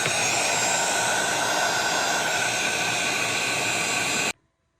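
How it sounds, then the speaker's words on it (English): A heat gun on its low setting, fitted with a directional nozzle, heats the plastic of a shift knob, giving a steady close-up airy roar that runs unbroken for about four seconds, then cuts off abruptly into silence. "I use the directional attachment on my heat gun so I can try and just heat the plastic without getting the leather"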